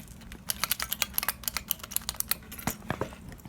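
Rapid, crisp clacking of keystrokes on a squishy Sprite-themed mechanical keyboard with loose, falling-off keys, irregular bursts of close, clear taps with no talking.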